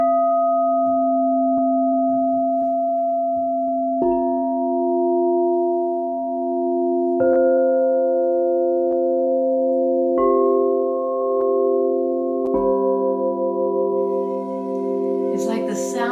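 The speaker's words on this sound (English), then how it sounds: "share the crystal alchemy singing bowls" Crystal alchemy singing bowls ringing with pure, sustained tones, new strikes layering fresh pitches every few seconds into a shimmering, wavering chord, close and steady with a brief rustle at the end.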